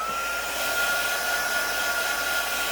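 A hair dryer blows steadily close by while drying watercolor paint in an art journal, a constant airy whir with a faint high motor whine.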